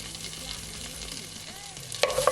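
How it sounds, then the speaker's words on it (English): Smashed garlic sautéing in a pot for macaroni and cheese, with a continuous close sizzle, a soft stir midway, and louder clattering near the end. "I'm just gonna allow it just to saute just a bit for at least 10 seconds"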